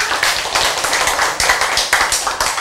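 A church congregation claps during a sermon, with loud, close, rhythmic hand claps in fairly regular beats, some sharper accents landing together.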